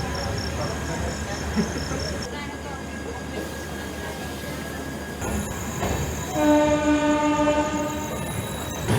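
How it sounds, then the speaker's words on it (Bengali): A train pulling out of a station on the route from Kolkata toward Darjeeling, with a continuous rumble of rolling carriages, then squealing wheels and a sustained horn blast later on, loud and near, with some background voices. "ট্রেন দেখছেন বেশিক্ষণ দাঁড়ায়নি ট্রেন ছেড়ে দিয়েছে"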